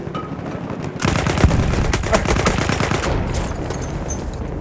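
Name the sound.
gunfire in the video game Battlefield 1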